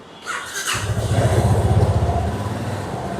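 A GPX Demon motorcycle engine, four days old, starts with a short squeal, then idles loudly and steadily nearby with a throbbing, rhythmic putter.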